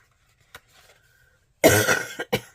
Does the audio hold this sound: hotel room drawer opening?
no